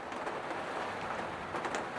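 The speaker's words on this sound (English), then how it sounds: "it's never stopped raining, and it started raining last night" Steady rain falls on a vegetable garden, a constant, even hiss of drops with no breaks, fairly soft and with no voices.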